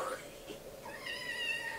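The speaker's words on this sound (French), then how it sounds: "elle me miaule en me regardant" A house cat gives a soft meow, then a longer, higher, wavering one, both close and fairly quiet with no talk over them.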